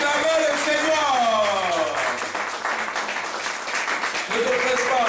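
A church congregation applauding, a steady wash of clapping heard beneath a loud voice speaking over it.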